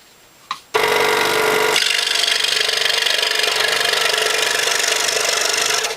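A power saw, likely a scroll saw, whirs to life after a click and its blade cuts steadily through wood for a snowman ornament, a loud, even buzzing rasp held close up for several seconds.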